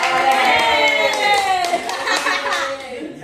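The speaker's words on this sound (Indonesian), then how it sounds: "Tepuk tangan dulu, tepuk tangan." Students clap for the last speaking group at a persuasive-speech lesson at an Indonesian madrasah, a dense burst of hand claps with a voice speaking over it.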